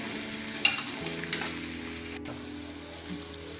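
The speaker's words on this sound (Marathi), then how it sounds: "त्यामध्ये आपण हा 1 चिरलेला टोमॅटो टाकणार आहे आणि हा छान परतू द्यायचा" Chopped tomato sautéing with onion in hot oil, a steady close sizzle with a few light stirring clicks and scrapes.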